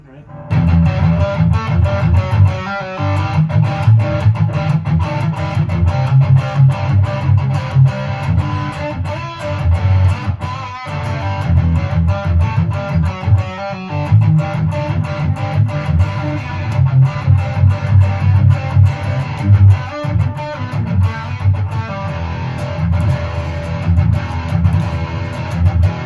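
An electric guitar with fuzz distortion, played through a Surfybear Compact Deluxe reverb, chugs loud and continuous in dense gritty strums with brief breaks between phrases.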